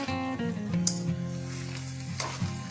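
Spatula stirring and scraping spiced vada pav potato filling in a hot pan, sizzling with repeated scraping strokes near the mic over a background of sustained tonal music, no talking.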